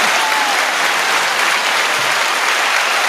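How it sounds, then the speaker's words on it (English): A recorded applause sound effect is played during a live online music show, a dense, loud, steady wash of crowd clapping with no pause across the whole stretch. "Wait, I'm going to bring in applause."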